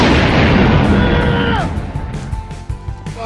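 A bomb goes off in the Roblox game Pass the Bomb with a loud, dense blast and crackling debris that fades over a few seconds, with a faint voice underneath.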